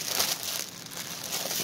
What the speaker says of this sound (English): sorry for the crinkling. Comes in a nice plastic bag.